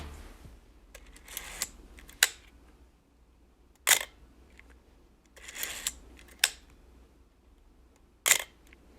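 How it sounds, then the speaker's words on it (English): Sharp mechanical shutter clicks from a rare 35mm film camera with a top-down viewfinder, about seven crisp, close snaps fired at irregular intervals, each with a quick cocking rattle around it, in an otherwise quiet room. "it has possibly the most satisfying shutter sound of any camera that I've ever shot with"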